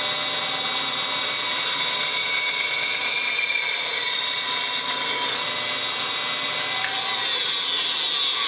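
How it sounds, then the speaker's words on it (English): A bandsaw cuts off a piece of a CNC-carved sign, a continuous high whine and buzz with a steady motor tone, close and loud for the whole stretch, with no talking. "Let's go cut that off with the bandsaw."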